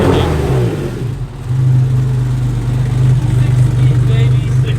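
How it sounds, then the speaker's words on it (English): A 6-speed swapped Porsche 964 accelerating, a loud steady engine drone with a firm low hum that holds and rises slightly as the car pulls, heard close with some cabin noise and a voice briefly present. "I'm about to do my first pull in my Porsche."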